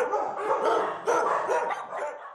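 Dogs at an animal shelter in Bydgoszcz bark and yip in a busy cluster of overlapping calls, moderately loud and fairly close, with no talking.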